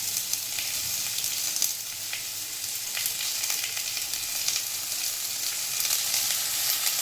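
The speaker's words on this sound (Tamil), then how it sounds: "வெங்காயத்தை போடுறோம். அப்படி போட்டதுமே பொருள்னு ஒரு சவுண்டு வரணும்" Onions sizzling in hot oil in a pan while egg puff filling is prepared. A dense, even crackle and hiss holds steady and close throughout, with no voices.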